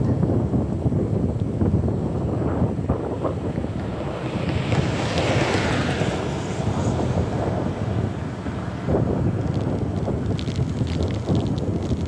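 Steady wind blows outdoors on a mild, breezy, overcast day, a continuous broadband rush with heavy microphone buffeting that runs throughout, loud and close, with no talking.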